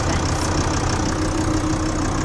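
A van engine idles after its EGR valve has been cleaned, giving a loud, steady, even rumble that holds without a break for the whole stretch, with no voices.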